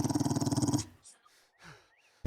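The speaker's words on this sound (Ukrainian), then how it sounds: "Собака." A dog growls in the 7 Days to Die survival game, a short rapid pulsing snarl lasting under a second, followed by quieter scattered ambient game noises.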